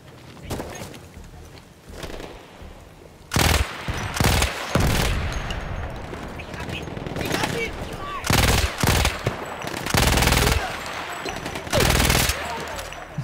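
Repeated bursts of weapon gunfire in the World War I shooter Battlefield 1, loud rapid volleys and single shots spread through the clip with quieter battle noise between them.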